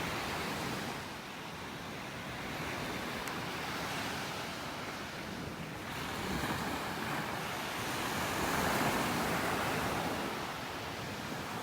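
Ocean surf breaks along the beach at North Naples, Florida, a steady washing roar that swells and recedes, mixed with light wind buffeting the microphone and no talking.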